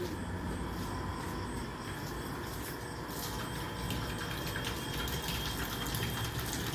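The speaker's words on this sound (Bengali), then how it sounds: "বোরিং থেকে এখন এই ট্যাঙ্কিতে জল আসছে।" A borewell pump fills a water tank, producing a steady, continuous rush of flowing water that holds at an even level throughout, with no talking.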